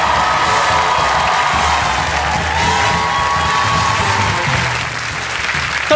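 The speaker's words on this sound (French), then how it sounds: "il faut l'applaudir, mesdames et messieurs" A television studio audience at a French Saturday-night show in Pigalle applauds loudly and steadily, with cheering and whoops mixed into the dense clapping throughout.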